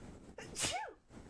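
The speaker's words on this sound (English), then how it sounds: "Bless you." A single sharp human sneeze, close and fairly loud, bursting out over a quiet room background.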